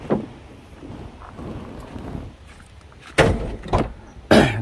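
A luxury car's engine hood is handled and opened, giving a few sharp thumps and clunks near the microphone against low wind noise, with the loudest knocks at the end.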